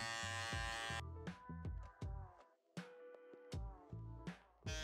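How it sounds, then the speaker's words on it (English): An electric shaver buzzes steadily while touching up a faded mullet haircut, with a close, bright hum that rises and dips in short passes as it works over the hair. "Now I'm just going to go back with my shaver and just kind of touch it up."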